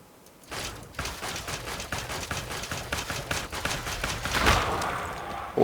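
A ship turret in Elite Dangerous firing continuously, a dense rapid stream of evenly spaced shots that holds steady and loud for several seconds.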